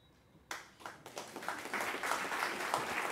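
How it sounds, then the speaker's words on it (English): Lecture audience breaks into applause, starting abruptly after a quiet moment and swelling into dense, sustained clapping that grows louder over a few seconds, heard from within the hall. "yes, you can clap for that"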